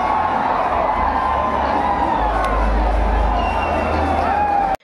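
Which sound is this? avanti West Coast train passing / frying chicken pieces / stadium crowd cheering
stadium crowd cheering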